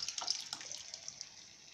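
Pressure-cooked lentils with turmeric pour into a pot for spinach sambar, making a close, continuous watery splashing with a few brief gurgles.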